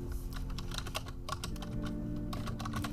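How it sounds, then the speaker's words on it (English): Rapid, uneven keystrokes on a computer keyboard, clattering close and clear for a few seconds with no talking. "I'm like typing the server code in case something's happened to it"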